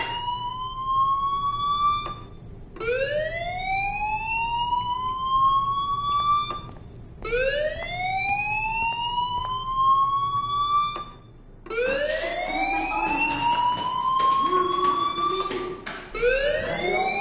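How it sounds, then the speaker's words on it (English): A fire alarm in a PS4 video game wails in repeated rising sweeps, each tone climbing and holding for a few seconds before restarting, loud and steady with no talk over it. "do you hear that fire alarm?"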